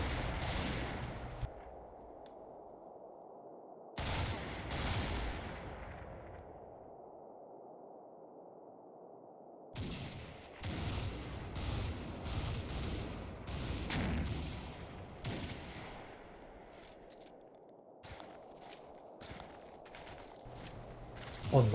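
Scattered gunfire from a World War II Combat Mission battle in Italy, a few sporadic pot shots popping at a distance among crackling bursts and footsteps-like shuffles, with long quiet gaps between clusters.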